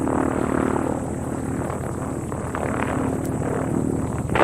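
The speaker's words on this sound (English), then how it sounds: "The Harvard had always been his favourite, and David had hoped to see it fly." A Harvard propeller aeroplane's engine running steadily nearby, a continuous loud droning buzz with a throbbing rhythm and no voices.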